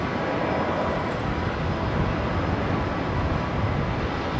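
Virgin Australia jet departing Brisbane Airport for Melbourne, a steady broadband engine roar holding loud and even throughout with no break, no other sounds over it.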